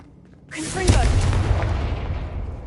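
Confringo blasting spell in the video game Hogwarts Legacy erupts into a loud, booming explosion with a sharp onset after a brief quiet moment, then a long rumbling decay, close and heavy.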